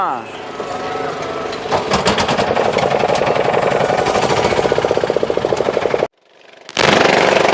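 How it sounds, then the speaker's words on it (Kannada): A boat's diesel engine runs with a loud, rapid, rhythmic chugging throb that holds steady, then briefly cuts out and comes back. "ಈ ಬೋಟ್ನ ಹೋಗೋದು ಹ್ಯಾಂಗದ ಅಲ್ಲಿ ಸೌಂಡ್ ನೋಡ್ರಿ ಹ್ಯಾಂಗದ ಮಸೀನ್ ಡಿಸೈಲ್ ಮಸೀನ್ ಸೌಂಡೇ ಜಾಸ್ತಿ ಅದ"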